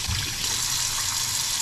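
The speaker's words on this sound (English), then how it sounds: "I also like to just wash the whole trout." Water runs steadily over a freshly caught trout being washed, a close, continuous rushing splash that holds an even level throughout.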